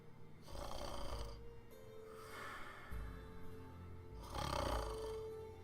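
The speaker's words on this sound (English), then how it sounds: "Just a loud noise of snoring fills the air" Loud snoring, three long rasping inhaled snores spaced a couple of seconds apart, close and alone with no talk.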